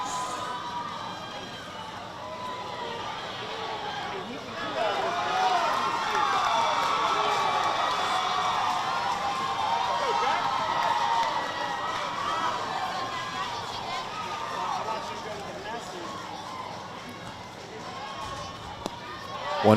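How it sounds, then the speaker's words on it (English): Crowd noise drifting across a softball complex with five games running at once, a diffuse murmur of cheering and chatter that swells in the middle, with commentary talk running over it. "And you can hear the crowd."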